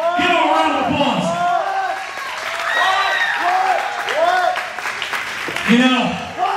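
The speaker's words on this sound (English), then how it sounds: "Give him a round of applause." Crowd at a South Texas wrestling show claps steadily while whoops and cheering voices rise and fall throughout, fairly loud and close, with a burst of louder shouting near the end.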